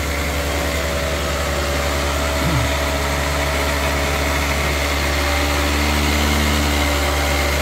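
An old Toyota Avanza car engine idles steadily, a low continuous rumble with mild vibration and no change in pace throughout.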